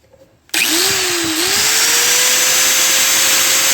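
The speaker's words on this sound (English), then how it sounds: "I got these two grinders for peanuts at the auction" A Skil angle grinder powers up abruptly after a brief quiet and keeps running loud and steady, its high whine rising slightly in pitch as the motor comes to full speed.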